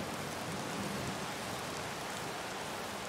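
Rain falls steadily in the video game Skyrim, a constant, even wash of hiss with no breaks or voices.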